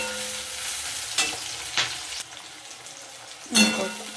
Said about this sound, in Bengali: এবার সামান্য আমি নেড়ে নেব, হালকা লাল লাল হয়ে আসুক।